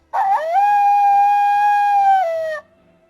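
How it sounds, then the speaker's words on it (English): A Disney Pixar Up Russell talking action figure plays a recorded dog howl, one sustained electronic tonal howl lasting about two seconds, loud and close, then cutting off to near silence. "Oh, I can bark. And here's howling."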